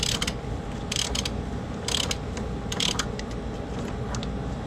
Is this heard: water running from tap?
no